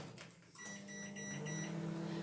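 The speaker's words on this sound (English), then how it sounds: "I'm going to pop it in the microwave for 2 minutes." A microwave oven runs with a steady, continuous hum and faint whine, close by and even in level throughout, used to heat a chocolate dessert mixture.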